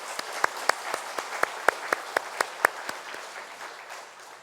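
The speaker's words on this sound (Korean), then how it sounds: "수고하신 모든 분들 감사하고 큰 박수로 함께 축복하겠습니다" A church congregation applauding during an afternoon worship service: sharp, evenly spaced claps stand out over a soft bed of applause, moderately near and steady, with no talk over it.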